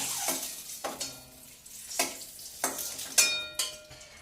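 Boiled eggs frying in a pan, a soft ongoing sizzle broken by several distinct scrapes and clinks of a utensil against the pan at irregular intervals.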